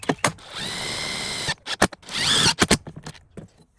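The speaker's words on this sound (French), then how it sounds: "c'est de la vis autoforeuse et on vient se visser dans la lambourde directement." A power drill drives self-drilling screws straight into a wooden joist under a bamboo deck, in two whirring bursts broken up by sharp knocks and clicks of handling.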